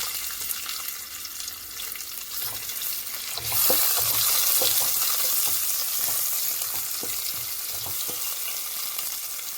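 Onions fry in a pan with a continuous close sizzle that swells louder partway through as they hit the hot oil, with light stirring clicks underneath and no voices.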